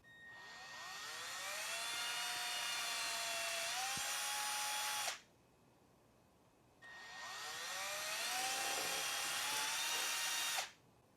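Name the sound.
drilling holes with 5/64 drill bit, GM 3.6 part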